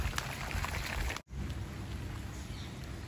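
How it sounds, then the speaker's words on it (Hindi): Heavy rain falls in a home garden, a dense, loud, steady hiss of drops with a brief cut in the middle and no talking. "बारिश तेज हो गई तो हमें अंदर जाना चाहिए"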